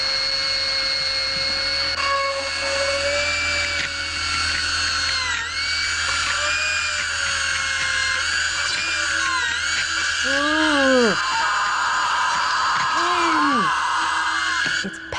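High-pitched whining dental drill running steadily on a tooth, its pitch sliding and dipping as it bites, close and loud, with a voice talking underneath.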